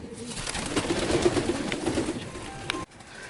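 Pigeons coo softly in low, rolling murmurs against a steady background hum, several calls overlapping nearby.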